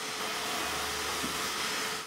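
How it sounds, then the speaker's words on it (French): A vacuum cleaner runs steadily and close by while cleaning a wooden staircase before renovation, a constant broad whooshing drone with no speech. "Commencez par passer l'aspirateur."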